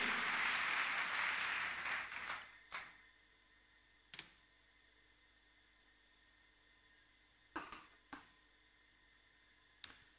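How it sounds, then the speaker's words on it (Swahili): Congregation clapping in a church, a loud burst of applause at the start that fades out within about three seconds, followed by a few isolated sharp claps or knocks against a quiet background. "Pigie Jehova makofi mengi. Piga tena, Yesu asikie."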